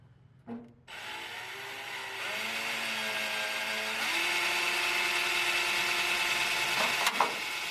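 A drill starts abruptly and runs steadily, its whining pitch shifting slightly as it bites into metal, grinding continuously at close range.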